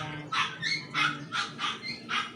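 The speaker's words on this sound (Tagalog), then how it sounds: "Yan, medyo maingay. May aso dun po" A dog barks five or six times in a steady series of sharp, fairly close barks, with a low background hum and no talking.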